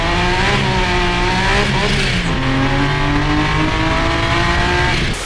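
A supercharged BMW E30 carrying an S54 engine from the E46 M3 pulls hard from inside the cabin, its loud engine note climbing steadily, dropping briefly at a gear change and rising again.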